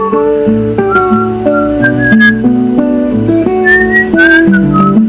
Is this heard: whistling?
yes